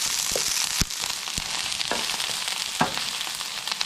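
Salmon and Brussels sprouts frying in a pan give a steady hissing sizzle, with occasional sharp pops and clinks from stirring scattered through it, close by and without speech.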